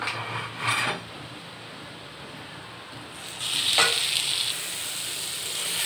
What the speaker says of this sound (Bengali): ডাল দিয়ে আমি ভালোভাবে নেড়ে নিচ্ছি।